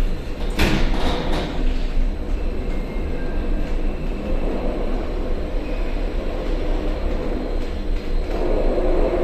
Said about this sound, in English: Elevator going up. Door